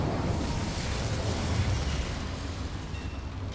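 An Incendio fire spell erupts in Hogwarts Legacy as a sustained, roaring burst of flame that stays fairly steady, then fades slightly toward the end, with no talk.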